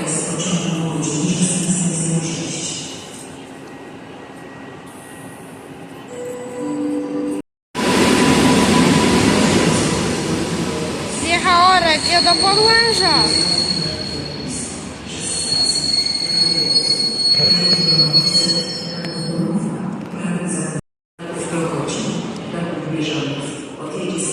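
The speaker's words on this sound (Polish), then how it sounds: "Odjeżdża TLK Małopolska." A TLK Małopolska train pulls out of Kraków Główny station with loud, sustained wheel squeal and rolling rail noise, while station announcements and voices sound over it.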